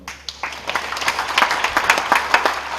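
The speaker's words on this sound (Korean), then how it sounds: "한번 박수로 한번." A church congregation at a Korean Presbyterian memorial service breaks into applause, starting sparse and building into steady massed clapping that stays fairly loud to the end, with a low hum underneath.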